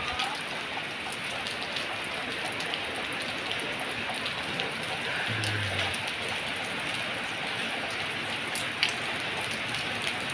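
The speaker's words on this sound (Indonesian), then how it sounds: "hujan aja teman-teman." Steady rain with strong wind pours down outdoors near a house, a dense, even hiss of drops on surfaces with occasional louder drips, no voices.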